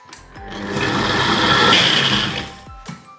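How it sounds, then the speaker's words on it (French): A kitchen blender whirs through a dip of curry, lemon and pepper, a loud steady motor whine building and then cutting off, with a brief restart at the end. "Et on va mixer tout ça."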